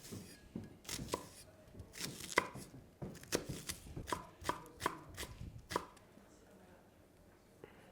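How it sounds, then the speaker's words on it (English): A knife chopping ingredients on a board for a Thai-style spice paste with shallots, a run of sharp, fairly close taps in an irregular rhythm, then quieter near the end. "Everything kind of roughly chopped up, as small as possible, as fine as possible, just to help out the pestle and mortar."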